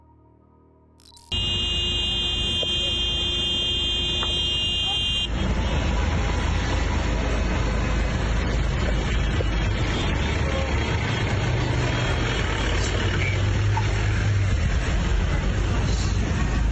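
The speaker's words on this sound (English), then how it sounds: "These wildlife watchers were seen honking their horns and bothering elephants to get them to move off the road." Car horns blare continuously and loudly at elephants on a safari road, one steady tone after a brief louder layered honk, with a rough vehicle rumble underneath.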